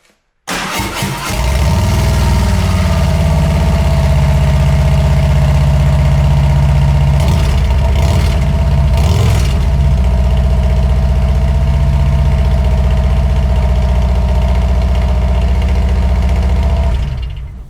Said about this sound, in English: That is my exhaust, 2 into 1, back into 2, as it sounds right now.